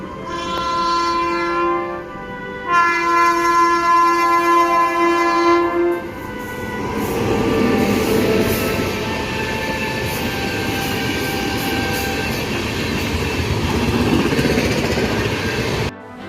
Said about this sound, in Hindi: WAG-12 लोकोमोटिव के साथ सहारनपुर के खानारामपुरा यार्ड से यहाँ पर एक मालगाड़ी आ चुकी है